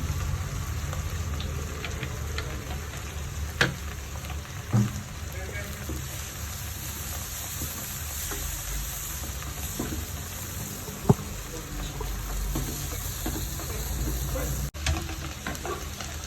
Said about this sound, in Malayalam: മൂത്ത് തുടങ്ങി കുറച്ചുകൂടെ ബ്രൗൺ കളറാവണം വെണ്ടയ്ക്കയെ ഒന്ന് വാടി തുടങ്ങി